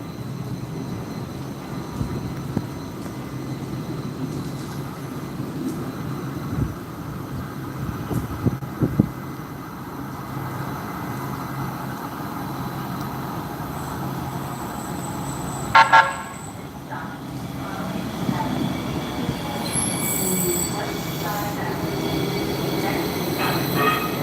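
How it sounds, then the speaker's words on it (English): Hudson-Bergen Light Rail train pulling into a station, a steady rumble of wheels with brief squeals and clanks partway through and a short horn toot, loud and close throughout. "next train to Hoboken is now arriving."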